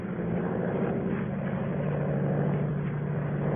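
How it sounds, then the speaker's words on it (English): Monoplane engine droning steadily as the aircraft climbs, a constant low propeller hum at moderate loudness throughout, with no voices, as a radio drama sound effect. "Low down in the south, a monoplane was climbing into the heavens."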